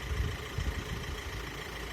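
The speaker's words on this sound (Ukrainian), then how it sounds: "От мотор в даний момент працює." A Volkswagen Crafter van's engine idles steadily at close range, a low, even rumble with a faint rhythmic throb that holds unchanged and alone throughout.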